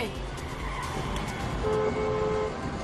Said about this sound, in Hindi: एक्सेलेरेटर दबाइए, इस गाड़ी को जितना भगाएंगे उतनी तेज चलेगी